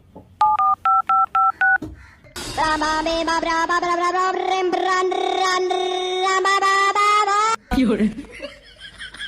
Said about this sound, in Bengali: না, দয়া করে ফোনটা লাগাই।